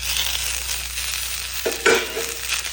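Tomato tossed into a pan of frying onion, golden garlic and green chilli for a dry fish chutney gives a steady broadband sizzle, with a couple of louder scraping stirs near the end.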